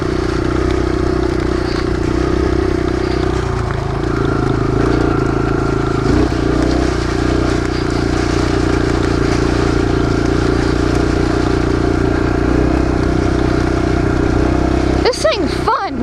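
Engine of a new Kawasaki KLX 140 dirt bike runs steadily and loud for the whole stretch, a constant mechanical drone with a brief rising rev near the end, while a person talks over it.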